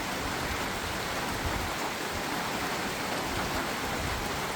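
Heavy rain pours down in a village in Ilam, Nepal, making a dense, unbroken hiss that stays at a constant, fairly strong level throughout, with no voices.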